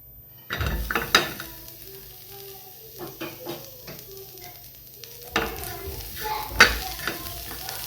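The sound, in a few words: bitter gourd roasting in a hot pan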